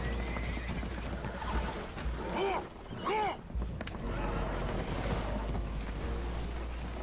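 Spooked horses aboard a damaged, leaking boat in Red Dead Redemption 2 let out two loud whinnies in close succession mid-clip, over a churning background of water and movement.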